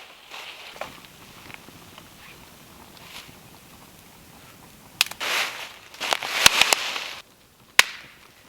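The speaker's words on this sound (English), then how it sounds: "Nice warm fire." A campfire at a tarp campsite in Wayne National Forest along the Kinderhook Trail crackles with scattered sharp pops and snaps, a few louder bursts of crackling and quieter hissing stretches between them.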